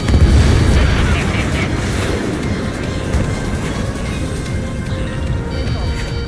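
In the Ace Combat 7 video game, a missile strikes its target and explodes as a heavy, loud rumbling boom that fades into a sustained low roar of jet engines.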